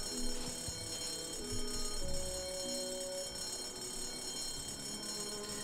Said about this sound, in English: Let's use this fire alarm.